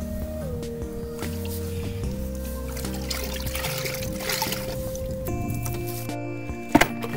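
Water runs and trickles over the surfaces of a 2006 C6 Corvette near the splash guard area, a soft continuous wash under steady tonal hum, with a couple of sharp clicks near the end.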